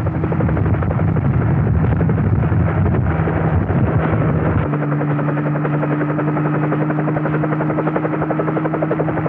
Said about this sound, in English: The president then boarded a nearby helicopter for an aerial tour of the space launch areas